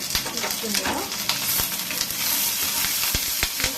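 Greens frying in a tempering with dried chillies, a dense steady sizzle with frequent clacks of a spoon stirring against the pan, close and loud with no speech.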